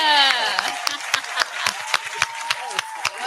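Hands clap in a steady run of about a dozen sharp claps, close and loud, starting under a fading tone and then alone, with brief voice sounds during a podcast.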